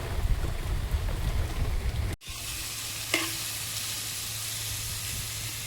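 Snake gourd frying in a pan, giving a steady close hiss of sizzling that cuts out briefly and then carries on more evenly, with rain falling outside.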